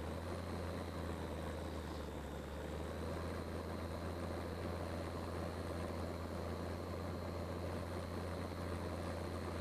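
A tractor's engine drones steadily at low idle while reversing in Farming Simulator 15, a constant loud hum with a faint high whine running through it and no one talking.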